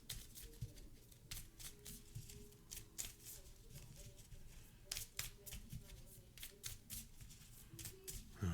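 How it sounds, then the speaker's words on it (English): Playing cards are shuffled repeatedly up close during a Marvel Champions card game, crisp riffling bursts coming in quick rhythmic rounds, quiet overall. "We're going to shuffle these up real quick."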